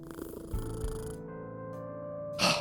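A cat purrs in the video game Kathy Rain 2, a soft rhythmic low rumble close up, set against a steady ambient game tone and ending in a brief burst of noise, with no speech.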